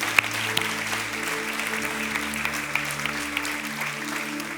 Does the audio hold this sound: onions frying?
no